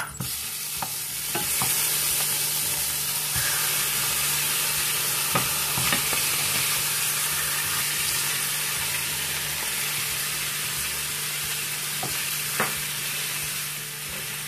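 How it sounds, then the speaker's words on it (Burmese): Sea fish frying in hot oil in a pot for a Thai-style coconut milk dish, a constant dense sizzle with occasional sharp pops and faint stirring clinks over a long steady stretch. "နာမှာတော့ကျမတို့ပင်လယ်ငါးလေးကိုထည့်ပါတယ"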